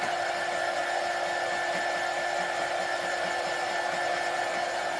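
A hair dryer blowing on a spring craft decor piece, a steady loud whirring hum running unchanged throughout, close by and alone with no speech.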